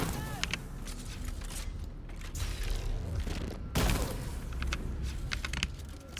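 Rapid bursts of explosions and crackling blasts from the Dune: Awakening game with an explosives build, dense and continuous, with a few sharp booms standing out over a busy, loud mix.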